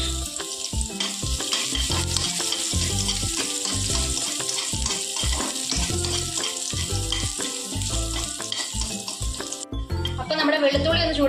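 Chopped garlic hits hot oil in a pan with a loud, dense sizzle that crackles and spits continuously, then shifts in texture near the end.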